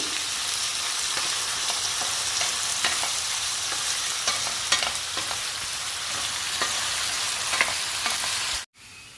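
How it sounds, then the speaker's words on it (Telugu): Potatoes frying in a pan with turmeric, a loud, steady sizzle layered with frequent stirring scrapes and taps, ending in an abrupt brief silence, with no talking. "ఈ బంగాళదుంపని ఫ్రై చేసుకుందాము"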